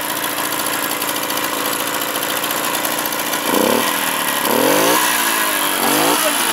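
Vintage Motom Daina moped engine idling steadily and loudly up close with a fast, even putter, a few short throttle blips rising in pitch near the end.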